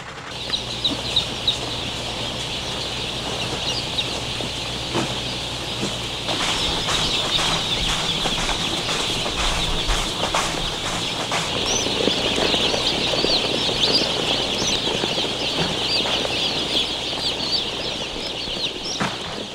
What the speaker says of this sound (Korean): 대형 트럭이 병아리 4만 마리를 싣고 이곳으로 도착했다